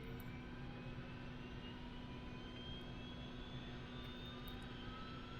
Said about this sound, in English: it looks like it's going to start engine number 2 first